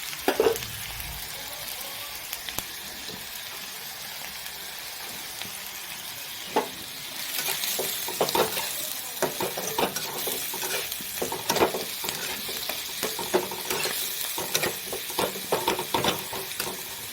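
Ginger-garlic paste frying with onion paste in hot oil for a prawn curry, a continuous close sizzle broken by repeated scraping and stirring strokes of a spatula against the pan, no voices.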